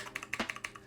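Quick clicky keystrokes tap out on a cheap mechanical gaming keyboard from Walmart, about a dozen close, crisp presses in an uneven typing rhythm.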